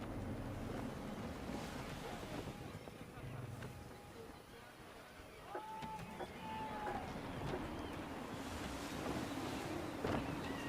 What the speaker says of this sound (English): Gusting pretty hard.